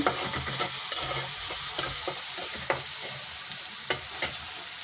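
Salted onions frying in a pot give a steady, close sizzle, broken by repeated scraping clicks of a spoon stirring at irregular intervals.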